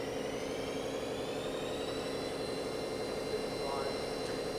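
A 2013 Haas VF8 40-taper CNC vertical milling machine spindle turning at 1500 RPM gives a steady, even whine with faint high tones above a broad mechanical hum, with speech over it throughout.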